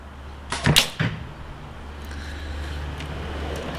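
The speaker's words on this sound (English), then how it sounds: "As soon as that clicker clicks," A recurve bow's clicker snaps, and the arrow is released and shot a moment later, making a couple of sharp, close transients that die away into a quiet, steady outdoor background hum.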